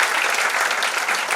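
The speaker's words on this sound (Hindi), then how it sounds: "ताली बजाएं उनके लिए" An audience at a business meeting claps in a brief, dense burst of steady applause, loud and close.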